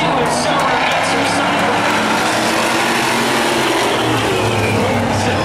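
Race cars roar around a short oval track during a heat race, engines loud and continuous with a constant dense drone; a race announcer talks over the engine noise.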